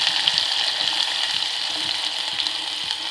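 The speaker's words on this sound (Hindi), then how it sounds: "अब इसमें प्याज डाल लेंगे" Chopped onion sizzles in hot oil in a pan for rava upma, a loud, steady frying hiss with faint rhythmic scraping of a spoon underneath.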